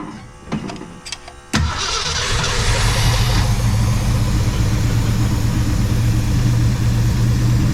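A 1966 Ford Fairlane with a 390FE V8 and a 4-speed cranks over a few uneven starter beats, then catches and settles into a loud, steady rumbling idle up close.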